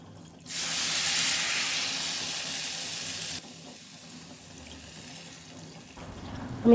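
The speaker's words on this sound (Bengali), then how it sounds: "পানি অ্যাড করে দিচ্ছি এখানে, এটা গরম পানি দিয়ে দিতে হবে।" Hot water is poured into a cooking pot of spiced rice for Egyptian-style brown rice: a loud, steady rushing pour lasting about three seconds, then a softer stream with light sizzling.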